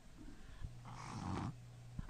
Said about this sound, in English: I know my cat sounds like Darth Vader.